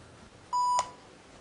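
A single short electronic beep from a phone in an office, clear and close over faint room tone, lasting about a third of a second.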